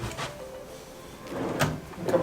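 A hotel room drawer slides and bumps shut, with a couple of soft wooden knocks and scrapes close by in a quiet room.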